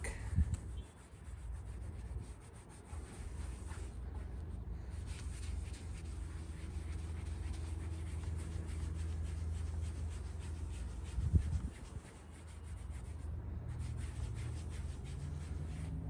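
An applicator pad works Chemical Guys VRP vinyl, rubber and plastic dressing into plastic trim, making a soft, continuous close-up scrubbing with a couple of faint bumps and no talking.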